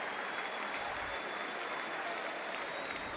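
A crowd of about 28,000 applauds in a New York baseball stadium, giving dense, sustained clapping that stays steady and fairly loud throughout.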